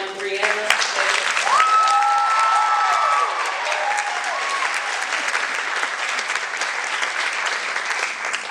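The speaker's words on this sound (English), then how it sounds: "A big, big round of applause for contestant number 1, Brianna." A pageant audience applauds a contestant at the Miss Indian North Carolina pageant, loud continuous clapping that fills the room for several seconds, with a brief voice and tone early on.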